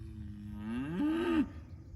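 A single cow lows in an open field, a clear and fairly close moo lasting over a second that rises and swells near its end, with nothing else competing.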